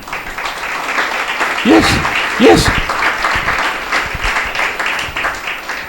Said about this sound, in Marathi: त्यामुळे आपण मोठ्यांनी एकदा टाळ्या देऊ गायत का?